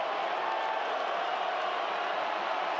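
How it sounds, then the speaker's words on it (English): A college football stadium crowd at a South Florida versus Memphis game roars steadily as a broad, distant wash of cheering and noise that holds level throughout. "Crowd's getting into it a little bit."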